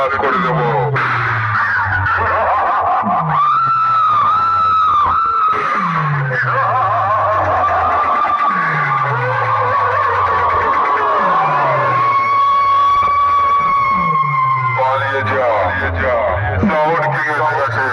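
A motorbike in a roadside sound competition revs repeatedly in loud surging bursts with squealing pitch sweeps, close and dominant, with shouting voices over it.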